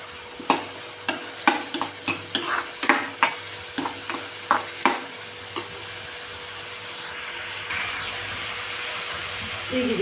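Tomatoes stirred and fried in a pan for a veg soybean kheema, with a spoon knocking and scraping in a quick run of sharp, close strikes over a faint sizzle, then a steadier hiss toward the end.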